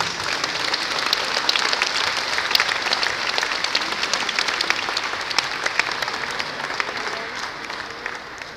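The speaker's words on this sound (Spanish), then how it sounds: "Creo que la ocasión merita un gran aplauso por parte de todos los presentes" Audience applause at the Mexican Naval Museum, a dense, steady burst of many hands clapping close and loud, fading slightly toward the end.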